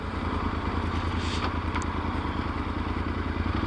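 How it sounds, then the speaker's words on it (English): A Yamaha Super Ténéré motorcycle engine chugs steadily at low revs, close and continuous, with a faint rattly clatter on top. "I don't think I should be riding at these low revs."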